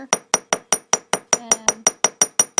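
A hammer taps wire flat on a hard block while making earrings, about a dozen sharp metallic strikes in a steady even rhythm, close and loud, with a brief voice murmuring beneath midway.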